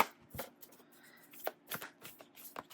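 Tarot cards are shuffled for a card reading, a close, quiet series of irregular riffling and slapping bursts with no talk.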